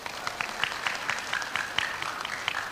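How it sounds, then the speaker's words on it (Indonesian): Faint scattered applause from a small crowd at a seminar, a few seconds of light clapping heard from a distance. "Tepuk tangan dulu dong."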